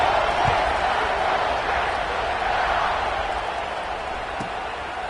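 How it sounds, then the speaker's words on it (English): A large football stadium crowd at a college game buzzes right after a touchdown and point after, a steady dense roar from many voices filling the space with no talk over it. "this crowd is buzzing after that last score."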